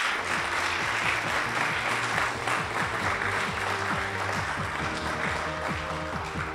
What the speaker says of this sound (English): maybe a round of applause for our fantastic expert